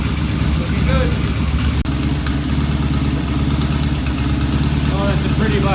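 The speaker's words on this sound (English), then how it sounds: "I turn the idle up just a little bit. That's about an 800, 900 RPM idle" A Norton motorcycle idling at around 800 to 900 RPM with its idle turned up slightly, a steady, loud, close engine rumble with rapid even pulsing, while a voice talks over it.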